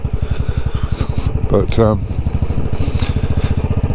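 A Royal Enfield Classic 500 thumps along on a ride, its single-cylinder exhaust beating in a fast, even pulse close to the mic, with a brief scraping rasp and someone speaking over it.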